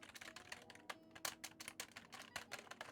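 Fingers typing on a computer keyboard, a quick irregular run of close, crisp key clicks with a few louder taps, heard alone.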